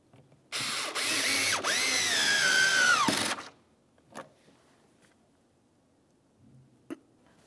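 A power drill whirs for about three seconds while driving a T20 Torx screw into the rear interior door of a 2006-2012 Ford Fusion. Pitch shifts show load changes, then a few faint clicks and taps follow in quiet.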